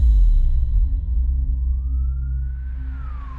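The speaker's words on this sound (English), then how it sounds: "Seconds later, the ambulance finally arrived and Kay was rushed to the hospital." A single siren wail rises slowly and then falls, heard faintly over a loud, low rumble of traffic or engine noise.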